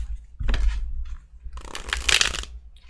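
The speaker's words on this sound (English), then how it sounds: "If I can shuffle." Tarot cards shuffled in two quick bursts, a short riffle followed by a longer, louder crisp flutter of cards, close and alone with no talking.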